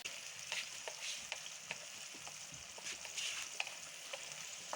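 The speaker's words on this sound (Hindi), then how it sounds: "ये देखिए प्याज को भून लेंगे हम अच्छी तरह से।" Onions fry in a pan for a tawa chicken kadai, giving a steady soft sizzle broken by frequent light stirring scrapes and crackles throughout, quiet and alone without voices.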